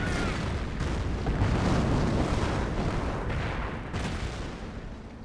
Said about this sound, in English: The British artillery is brought in as well.